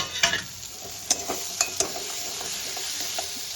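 Fried fish head stirred with ground spices in a pan, a soft sizzle under a few sharp scraping clinks of a spatula against the metal, close up.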